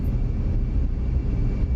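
F-15C fighter jet engine in the DCS flight simulator after a rough landing, a loud steady low rumble and whine holding throughout without talk.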